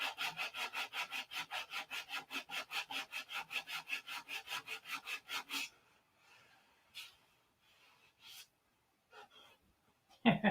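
Rapid rhythmic rasping strokes of sanding fillets on a P-47 model, about three per second for several seconds, then stopping to a few scattered scrapes and soft handling noises.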